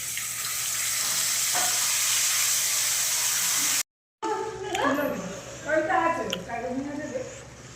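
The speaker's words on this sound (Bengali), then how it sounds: "আমি এখানে কাজু, চারমগজ, টমেটো, আদা, কাঁচা লঙ্কা পেস্ট করে নিয়েছি, সেই পেস্টটা আমি দিয়ে দিলাম তেলের উপরে" A paste of cashew, melon seeds, tomato, ginger and green chilli hits hot oil with a loud continuous sizzle and hiss, then after a brief cut the frying goes on more softly as someone talks over it.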